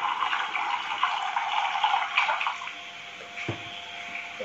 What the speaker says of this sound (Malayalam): ഗ്ലാസിന്റെ പാത്രത്തില് വെള്ളം എടുത്തിട്ടുണ്ട്.